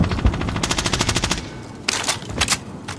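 Rapid automatic gunfire in Call of Duty, loud and close, with bursts of fast rhythmic shots followed by a few sharper, separate cracks.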